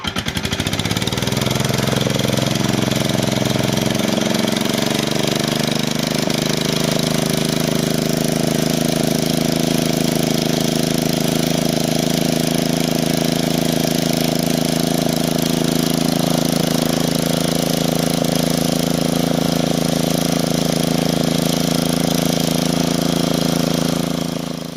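A farm engine cranks and catches within the first seconds, then settles into a loud, steady running drone close by for the rest of the clip, with no talking.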